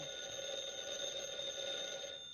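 A telephone rings steadily in a house interior, a continuous bright electric bell tone held at moderate volume throughout without pause.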